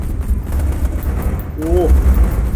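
Handgun fire in the video game Borderlands 2 sounds as rapid, loud crackling bursts over game noise, and a player speaks briefly near the end.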